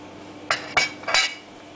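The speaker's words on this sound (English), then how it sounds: "get our little moulds that we're using. This is just a little springform quiche pan." A small metal springform quiche pan clinks and clatters three times as it is picked up and set down, short bright metallic knocks close by with no talking.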